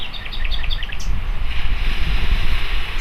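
Ocean waves wash steadily onshore, a broad continuous roar of surf with light wind, and a few brief bird chirps early on, no voices.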